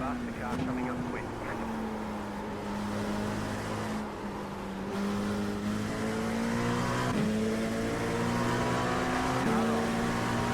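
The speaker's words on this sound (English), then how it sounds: "Faster car coming up quick." A race car engine drones steadily at Watkins Glen during a 6-hour endurance race, a faster car closing in, the pitch rising and falling through gear changes over continuous radio talk.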